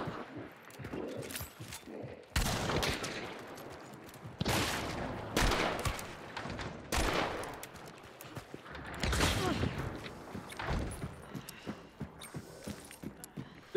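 Gunfight gunfire in the video game Hunt: Showdown, with repeated heavy shots and bursts through the clip amid game ambience, some footsteps and hoof clops.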